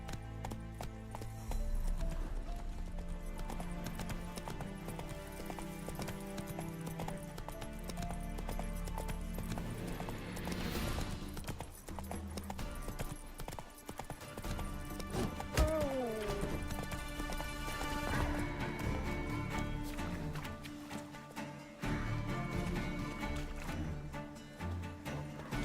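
Hooves of the horse Roach clip-clop steadily on the ground in The Witcher 3, mixed under continuous game music and ambience, with a brief whinny partway through.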